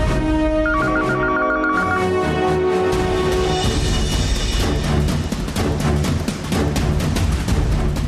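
A loud electronic landline telephone ring trills repeatedly over a dense background of music or noise, continuing throughout without being answered.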